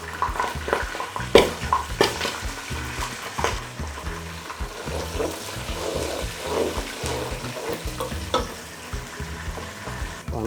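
Onions fry in vegetable oil for jollof rice, a steady close sizzle broken by repeated stirring scrapes and clacks throughout, with no voices.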